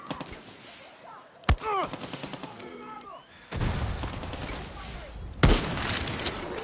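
Sniper rifle fire in Far Cry 6: two loud, sharp, isolated shots stand out over quieter game ambience, separated by several seconds of softer in-game noise.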